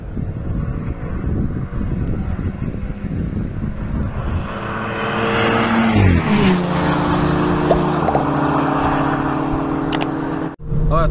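A Volkswagen Jetta 1.4 TSI engine on gasoline pulls hard in third gear while racing a BMW Z4 2.0. Its steady drone rises in pitch as the car accelerates, with wind noise around it and someone talking over it.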